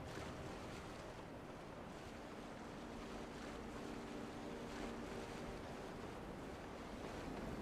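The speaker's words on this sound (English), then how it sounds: "Weather has taken a turn. I thought I detected a change in lighting. Arnie, we're out here in a blizzard." Blizzard wind in Skyrim, a continuous rushing gust noise that swells and eases slightly in waves, steady and fairly faint, with no voices.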